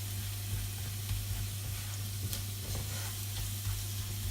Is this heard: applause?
no